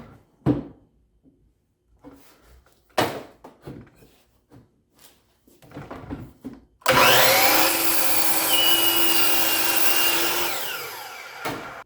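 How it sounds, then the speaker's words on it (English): Clattering handling and a few knocks, then a power tool starts up and runs loud and steady for several seconds, cutting off the wax-coated edge of a wooden board before stopping. "I start by cutting off this edge"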